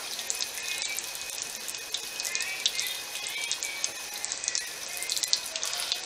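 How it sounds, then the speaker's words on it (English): Water running steadily from a tap into a sink while someone rinses off their face, a continuous hiss with light splashes, moderately close and fairly quiet. "I had to rinse off."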